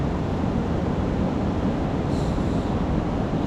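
Strong waves roll onto a shore in Zambales, Philippines, making a steady, loud rushing wash with heavy wind buffeting the microphone and no voices.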